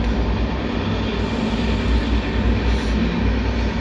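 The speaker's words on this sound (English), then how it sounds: "Sorry for this train noise, I can't remove it." A train passes close by as a loud, steady rumble with a broad roar, holding at a constant level across the whole span without fading.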